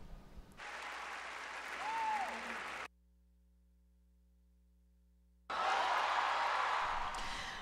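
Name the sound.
Tony Awards audience applauding Robert De Niro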